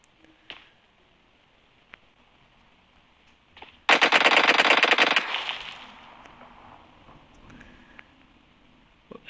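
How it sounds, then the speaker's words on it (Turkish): A rapid burst of Uzi submachine-gun fire in the mobile game PUBG Mobile, lasting about a second loud and close, then fading into a lingering echo amid otherwise quiet surroundings. "Elinde Uzi var."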